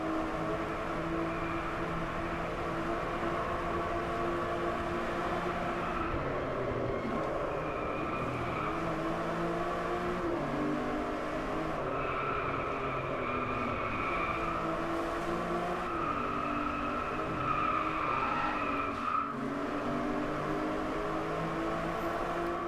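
Aston Martin V12 Vantage S engine in the Driveclub racing game drones steadily for a long stretch, shifting pitch as it accelerates and changes gear. Moderately loud and continuous, heard from behind the car with no voices.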